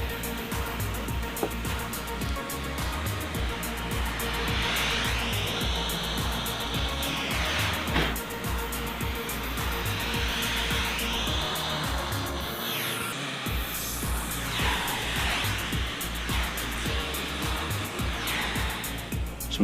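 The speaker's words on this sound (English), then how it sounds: "Let's blow some solder." A hot air tool blows steadily onto solder connections during a fog chiller build, a continuous whooshing roar with rising and falling sweeps as the nozzle moves, close and fairly loud, no one talking.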